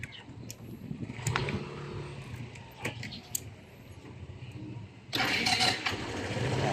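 A Kymco Like Italia scooter is started with a single push of the button, giving a brief whir and then a close, steady engine running loudly toward the end.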